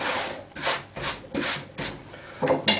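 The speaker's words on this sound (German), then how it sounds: "Dann nehme ich noch ein bisschen Sandpapier, Schleifpapier, um die Kanten zu brechen." Sandpaper rubbed by hand along the edges of a wooden workpiece to break them, five or six rhythmic back-and-forth rasping strokes, close and fairly loud, with no talk.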